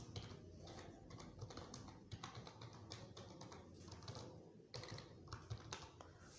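Quiet, rapid keystrokes tap continuously as a password is entered on a computer keyboard, a close, irregular patter with no speech.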